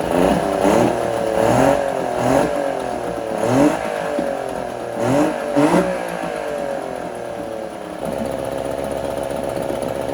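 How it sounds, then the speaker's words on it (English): A 1968 boat engine, smoky and running on fuel mixed with oil, revs up repeatedly in rising and falling surges, then holds a steady, loud running note near the end. "But it revs up really nicely."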